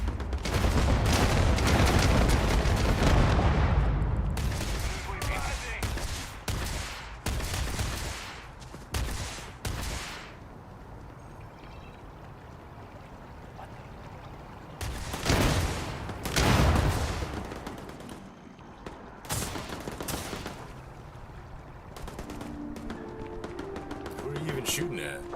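Video game war-zone gunfire from Starfield: bursts of rapid shots and booms, heavy at the start then in scattered volleys, with quieter stretches between.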